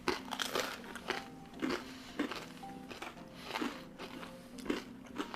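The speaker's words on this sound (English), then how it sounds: "I love that crunch on the outside." Someone bites and chews crusty Tuscan bread, giving repeated close crackly crunches in an uneven chewing rhythm, fairly quiet, with a faint low hum underneath.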